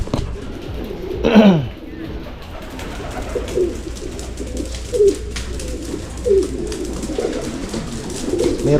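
Pigeons coo in a breeding loft: one loud coo early on, followed by several softer repeated coos amid low background rustling.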